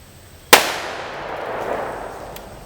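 A single sharp report from a Smith & Wesson Model 19 .357 Magnum revolver, loud and close, with a long ringing decay trailing off over the next two seconds.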